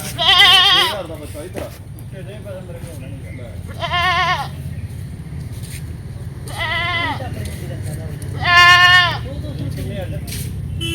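Goats at a livestock market in Harike Kalan bleat loudly in four separate wavering calls spaced a few seconds apart, over steady crowd and traffic murmur.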